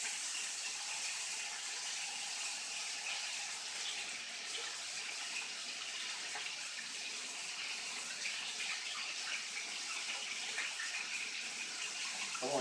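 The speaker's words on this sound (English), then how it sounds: "I'm going to wash my hands off real quick" A tap running steadily into a sink while hands are washed, a constant hissing water stream heard up close and fairly quiet, with no talking.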